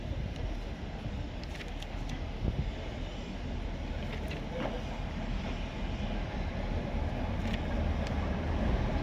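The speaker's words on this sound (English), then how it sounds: "Derby lightweight railcar Iris draws onto the platform" Derby lightweight diesel railcar Iris, a first-generation diesel multiple unit, draws into a station platform with a steady low rumble and broadband engine and wheel noise, holding fairly constant throughout.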